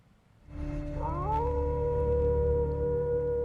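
A wolf howl played back through speakers at a conference presentation, one long rising and sustained tonal howl over a low hum of the room, loud and continuous.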